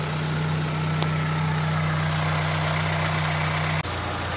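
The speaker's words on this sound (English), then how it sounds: "Sounds good if you think of all the issues that this engine has." A 1998 Daewoo Lanos 1.4 engine with a blown head gasket idles with a steady low hum and faint ticking, running evenly close by before cutting off abruptly near the end.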